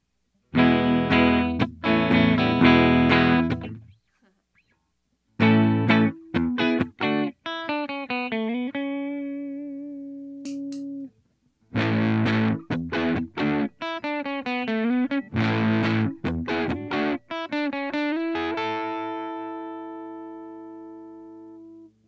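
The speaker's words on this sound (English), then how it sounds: "here is the Earth Overdrive from Dogman Devices." Electric guitar played through a Dogman Devices Earth Overdrive pedal, giving loud, gritty driven chords and sustained single notes with wavering bends, in several phrases broken by short pauses, with no voices.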